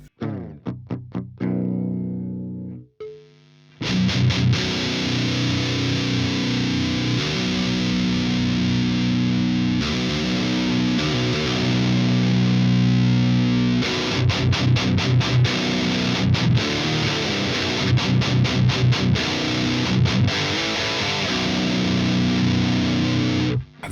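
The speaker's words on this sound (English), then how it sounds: "I start with dialing in a nice sound, and I'm in overdrive 2 mode because this has more gain." An electric guitar through a Marshall Valvestate 100V 8100 amp in overdrive 2 mode plays thick, distorted chugging riffs and sustained chords, loud and saturated, after a brief cleaner intro.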